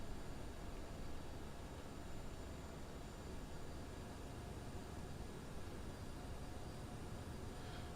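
Steady, even engine roar and broadband hiss of an A32NX airliner taxiing in after landing in a flight simulator game, constant and unchanging throughout with no voices.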